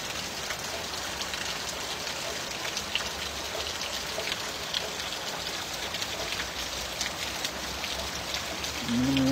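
Heavy summer rain pours steadily and loudly, a close, unbroken wash of water that includes runoff from a gutter, with no talking.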